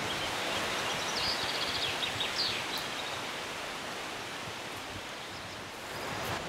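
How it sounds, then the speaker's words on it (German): Strong, stormy wind roars steadily through an open oak forest, a dense continuous rush like surf with leaves rustling, loud and close throughout with slight swells and no voices. "es ist heute recht stürmisch"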